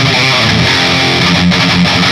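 Distorted electric guitar chugging through a Peavey Invective mini head with the tight switch engaged, dense and saturated, played loud and continuous with no voices.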